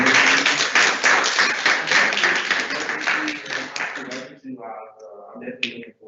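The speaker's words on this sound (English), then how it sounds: "can we get them a round of applause?" An audience claps together at a student government general session meeting: about four seconds of dense, close applause, which then gives way to a person speaking.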